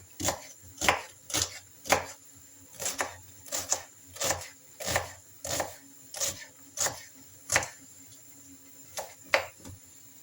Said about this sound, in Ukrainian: Почистила цибулю і покришу